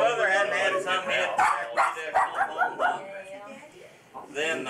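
A dog barks, yips and whimpers in quick bursts, close and lively, over and between people talking in a domestic setting.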